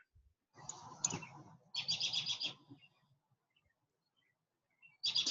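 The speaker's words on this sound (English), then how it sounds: "That bird is loud" A loud bird calls in several bursts of bright chirping, close by and alone, with short quiet gaps between them.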